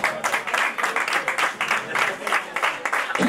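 A crowd applauds at a boxing presentation and weigh-in for a European super welterweight title fight, with steady, dense clapping that keeps going at an even level throughout.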